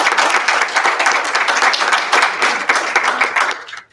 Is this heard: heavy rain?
no